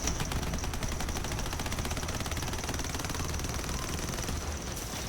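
Sustained rapid gunfire from a shooter video game, a dense continuous rattle of automatic shots holding steady at moderate loudness for about five seconds with no voices.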